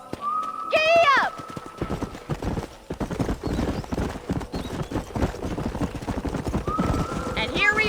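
Hoofbeats of a horse galloping in the video game Red Dead Redemption Undead Nightmare, a steady rapid clip-clop running throughout, with a whinny near the start and another near the end.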